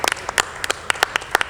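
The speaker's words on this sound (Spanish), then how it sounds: "un aplauso" A few audience members clap sparsely and unevenly after an agreement signing at an annual plenary of public defenders, producing about a dozen distinct sharp handclaps over a second and a half with no talk.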